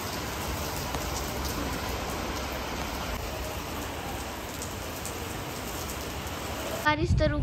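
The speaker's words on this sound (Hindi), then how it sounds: "बारिश आ गई, बारिश आ गई" Steady rain falls outdoors in a dense, continuous hiss across the whole stretch, with a short burst of other noise right at the end.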